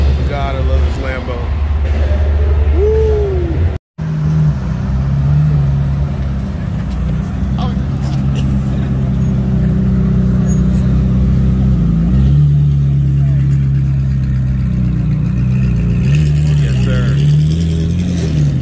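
A Lamborghini engine revs and rumbles up close in a loud, sustained run with several rising and falling pitch swings, a brief dropout early on, and voices talking over it.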